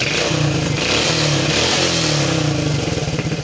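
A Yamaha Jupiter MX motorcycle engine fires on the first start and settles into a steady, loud idle with a rapid even putter throughout, close to the listener and with no talking over it.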